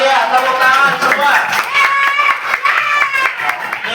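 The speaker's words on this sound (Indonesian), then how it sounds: "Yang meriah, tepuk tangan semua." A classroom of students clapping hands together, bright and close, mixed with children's voices and cheering throughout.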